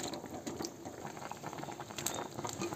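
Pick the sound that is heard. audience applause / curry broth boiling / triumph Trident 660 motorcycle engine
curry broth boiling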